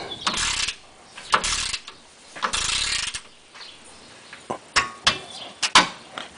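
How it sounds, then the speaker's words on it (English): A torque wrench clicks on reaching its set torque while working on a Ford Mustang GT with the 5.0 liter Ti-VCT engine, several sharp mechanical clicks and ratcheting bursts spaced out, close and crisp. "That little click indicates that I have reached the torque specification and that I should stop turning the wrench."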